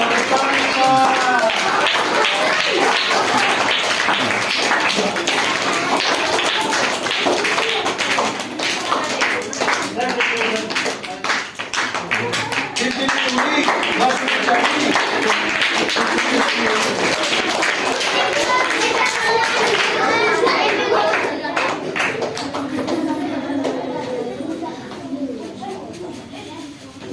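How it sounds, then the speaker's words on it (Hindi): An audience claps at a school Saraswati Puja cultural program, with dense, continuous applause lasting throughout and a voice speaking over it. "ताली बजाते रहो"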